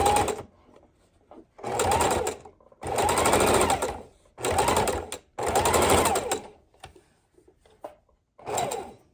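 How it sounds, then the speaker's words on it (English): Sewing machine stitching a quilted fabric book bag strap, running in five or six bursts of steady whirring a second or two long, separated by short pauses, close and clear with no talking. "we're going to run it over with the sewing machine twice"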